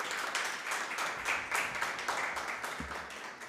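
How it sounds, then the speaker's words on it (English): Applause for competing teams at a moot court event, a steady wash of clapping from an audience that fills the room at a fairly even level throughout. "Another round of applause for the teams."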